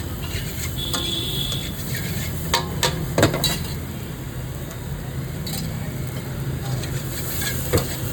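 Mutton and fried rice frying at a busy food business, a constant loud sizzle under occasional metallic scrapes and clanks of a spatula against the pan.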